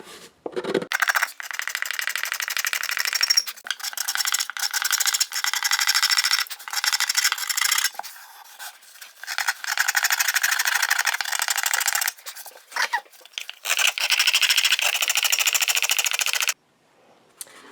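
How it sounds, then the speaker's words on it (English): A small tool scrapes glue and grime out of a violin's purfling channel in the wood, producing close, high, rasping strokes in irregular bursts with brief pauses throughout. "I'm scraping away all the dirt and grime, all the glue, and I want a nice deep channel"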